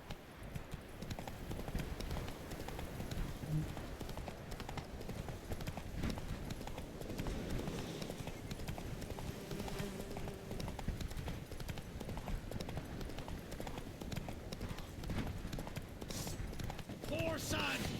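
Horse hooves clip-clop steadily in The Witcher 3, a continuous rhythmic trot over the game's ambient sound, with someone talking over it.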